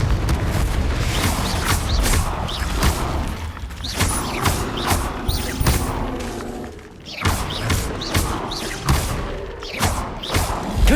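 Fiery Confringo spell blasts from Hogwarts Legacy, gameplay during the third trial, repeated booming impacts and crackling bursts following one another rapidly amid constant loud combat noise and clattering effects, with no voices.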